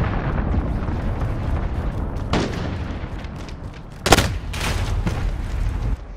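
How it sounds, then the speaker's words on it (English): A cruise missile strike in a Call of Duty match hits with a sharp, loud explosion, followed by a couple more bursts and booms over a low, rumbling battlefield din. "Cruise missile away."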